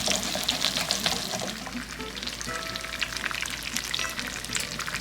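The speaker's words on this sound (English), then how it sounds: "So we're browning our second side, about 2 minutes on each side." Breaded chicken parmesan cutlet fries in oil in a pan, a loud, steady, close crackling sizzle with bursts of spattering throughout.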